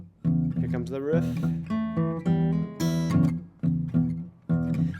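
Fingerstyle blues guitar riff, plucked notes and bass line in a steady shuffling phrase with short gaps between figures, close and clear, played alone without talk.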